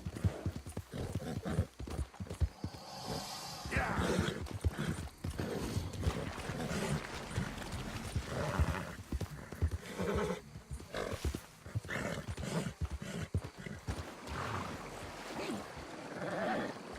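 Horse hooves clip-clop and neighing in Red Dead Redemption 2, irregular clattering steps and whinnies over a busy outdoor game soundscape lasting throughout, with some voices in the background.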